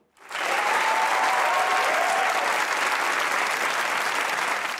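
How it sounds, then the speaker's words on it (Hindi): A studio audience at a comedy talk show breaks into dense, loud, sustained applause that rises quickly in the first half second and holds steady to the end, with no talk over it. "तालियां बजाइए"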